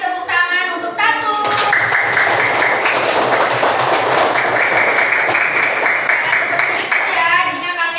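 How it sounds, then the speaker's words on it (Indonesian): A classroom of students claps for a classmate, a loud, sustained round of applause lasting several seconds, with a teacher's voice speaking before and after it. "Tepuk tangan untuk Tatu."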